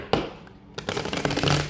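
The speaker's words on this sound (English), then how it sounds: "gonna pull a few cards from the traditional tarot here" Traditional tarot cards being shuffled: a sharp snap, a brief lull, then a dense, loud riffling flutter of cards close by with no talking.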